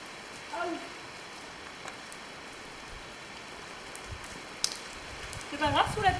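Light rain patters steadily at a horse stud farm, a faint continuous hiss with a few scattered chirps and a brief louder rustle near the end.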